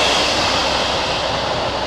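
A train rumbles past close by a canal narrowboat, a loud steady roar of wheels and engine noise filling the whole moment.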